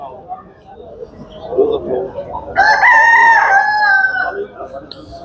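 A rooster crows loudly nearby at a poultry market in Tuzla, Istanbul, a long wavering call rising over market chatter and voices talking in the background.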